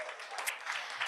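An audience at an education symposium applauds in a brief, fairly faint burst of clapping with a few voices under it.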